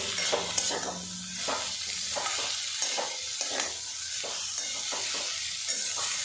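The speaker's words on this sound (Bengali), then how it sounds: "বাঁধাকপি কিন্তু বেশ কিছুক্ষণ ভাজা ভাজা করে নেব" Shredded cabbage fries with spices in a pan, a steady sizzle broken by regular scraping strokes of a spatula as it is stirred, close and continuous with no talking.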